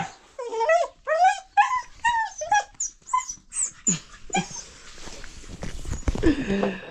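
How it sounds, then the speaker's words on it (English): A dog barks close and loud in a rapid run of about nine sharp barks, then trails off into whining, grumbling noises and shuffling. "That dog is something else."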